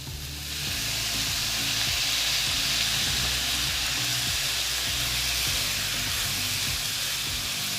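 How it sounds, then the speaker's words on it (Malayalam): Vinegar is poured into a hot pan of carrot, mango and bitter gourd pickle, setting off a loud, steady broadband sizzle and hiss that swells in within the first second and continues throughout. "ഇനി നമുക്കിതിലേക്ക് വിനാഗിരി ചേർത്ത് കൊടുക്കാം."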